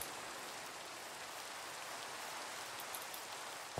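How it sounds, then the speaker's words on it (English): Rain falling in a 3D survival video game, a faint, even hiss of steady rainfall with no speech over it. "It is the rain."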